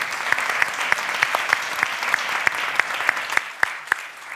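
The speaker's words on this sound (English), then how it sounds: "Join me in a round of applause to our speakers and for the beautiful panel." A small conference audience claps for a panel of speakers in a steady, sustained round of applause, moderately loud, with a few sharper individual claps standing out.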